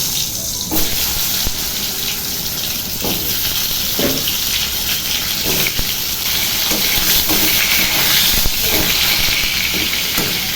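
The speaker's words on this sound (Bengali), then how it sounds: "কড়াইটা গরম হয়ে গেছে, পটলগুলো ছেড়ে দেবো" Sliced pointed gourd (potol) dropped into a hot wok, with a steady loud sizzling hiss and scattered crackles throughout, close up and without talk.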